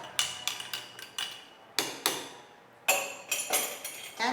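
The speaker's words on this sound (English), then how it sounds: "let's just give it a bit of a stir." A spoon stirring French press coffee inside a glass carafe, with coarse ground coffee brewing: a run of sharp, close clinks and taps against the glass in uneven bursts, loud and with no voices.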